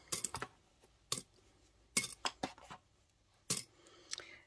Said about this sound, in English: what you need to do is cut off all your threads